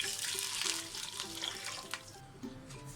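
Water streams steadily into a pot of rice for beef dum biryani, splashing close up for a couple of seconds before tapering off, with no voices.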